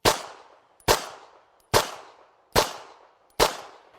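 Five sharp pistol shots ring out at a steady pace, about 0.85 seconds apart, during a marksmanship drill. Each shot is loud and close, with a short decaying echo and quiet in between.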